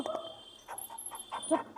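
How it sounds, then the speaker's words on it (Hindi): A dog makes several short, faint yips and whimpers in an irregular series, heard at a distance with quiet background noise and no clear speech over it. "ये क्यों भौंक रहा है इतना?"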